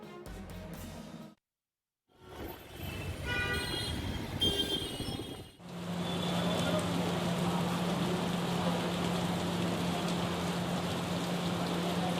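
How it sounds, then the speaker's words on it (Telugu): Heavy, unrelenting rain falls in Hyderabad, a dense steady hiss and patter filling the later part after an earlier stretch of mixed street and traffic noise with a brief dropout, loud and continuous with a low hum underneath. "హైదరాబాద్ లో ఎడతెరిపి లేకుండా వర్షం కురుస్తోంది."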